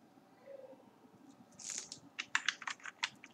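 Code is typed on a computer keyboard, a quiet, close patter of irregular key clicks that grows busier toward the end over a faint background hum.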